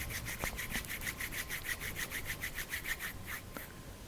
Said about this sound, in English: Rub your both palms.